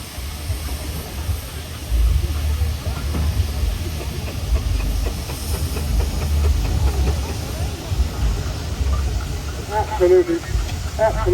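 A steam traction engine at an outdoor rally lets off a continuous, moderately loud hiss of steam over a low rumble of machinery, with crowd noise and voices in the background.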